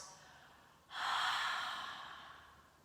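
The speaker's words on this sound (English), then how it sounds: "Open the mouth and breathe out" A slow, deep breath pushed out through an open mouth during a yoga session, one long soft airy exhale that swells quickly and then fades gradually, close and quiet with no speech.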